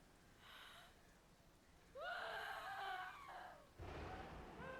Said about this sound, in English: That scream, though.